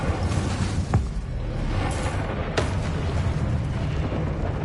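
Fire spell cast in a fantasy wizard action game, a couple of sharp whooshing bursts over a dense, rumbling backdrop of game noise and music.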